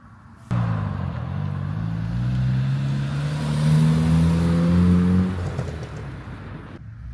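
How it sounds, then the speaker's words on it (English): A big Jaguar car cruises close by, its engine note steady and rising through several smooth gear changes before settling back, with no talking over it. "Cruising around in the big Jag."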